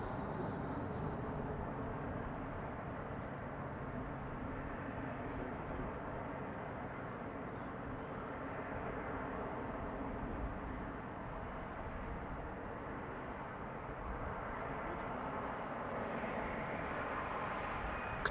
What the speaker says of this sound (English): Qatar Cargo 777 freighter is traversing the runway